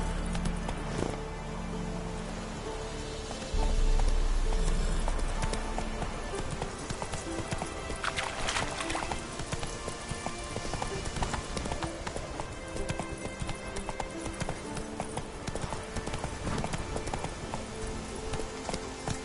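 Horse hooves gallop in a PS4 video game as a rapid continuous clip-clop running under game sound for a long stretch, with a brief shouted voice at times.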